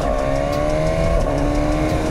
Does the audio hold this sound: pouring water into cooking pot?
no